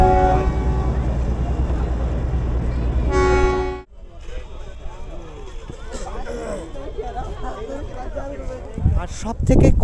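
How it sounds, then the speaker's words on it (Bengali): Darjeeling toy train rumbles past close by with loud continuous clatter and a horn, then cuts out abruptly, followed by people talking and further engine noise rising at the end. "পাশ দিয়ে টয় ট্রেন চলে যাচ্ছে"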